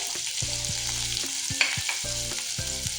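Capsicum with garlic stir-fried for a vegetable manchow soup, a loud close sizzle broken by repeated scrapes and tosses of a spatula in the pan, with no voices.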